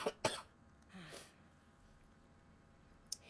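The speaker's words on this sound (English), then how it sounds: "Still have a bit of the cough that I've been fighting with" A single sharp cough near the start, then a softer throaty cough or throat clearing, followed by quiet breathing and a faint click near the end, all close and fairly quiet.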